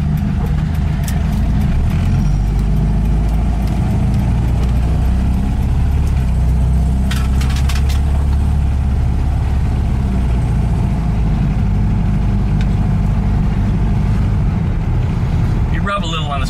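A VW Type 3 with a freshly installed engine and automatic transmission runs steadily, a continuous low engine drone close by from start to end, with people talking over it.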